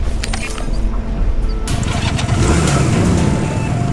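A vehicle engine cranks and catches in the survival game Undawn, then settles into a steady, loud idle hum that runs continuously to the end, with no voices over it.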